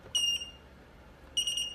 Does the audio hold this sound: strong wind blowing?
no